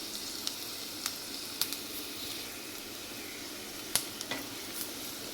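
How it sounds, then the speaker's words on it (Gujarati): Garlic sizzles as it is sautéed in tempering oil for a Punjabi vegetable gravy, a soft, steady frying hiss with occasional sharp pops and crackles, fairly quiet and without talking. "લસણ સરસ મજાનું બ્રાઉન થાય ત્યાં સુધી આપણે એમને સાતળવાનું છે"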